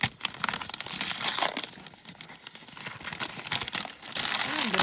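Taped wrapping paper being pulled and torn off a parcel, a steady run of loud close crinkling and crumpling with sharp tearing bursts throughout, no voices.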